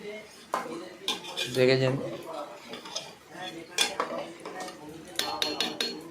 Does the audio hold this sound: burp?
no